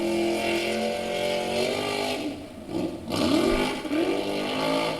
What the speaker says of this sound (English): Brother Joe just does a wheel stand and loses it